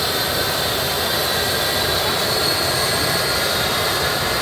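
Twin engines of a North West Air Ambulance helicopter spin up for takeoff on Birchwood golf course, giving a loud, steady, unbroken roar that fills the whole stretch.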